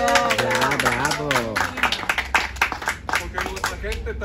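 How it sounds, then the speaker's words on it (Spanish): A crowd at a gay pride celebration in Boyle Heights, Los Angeles, breaks into brisk clapping that follows a voice speaking at the start, with uneven bursts of claps continuing to the end. "Pues un aplauso."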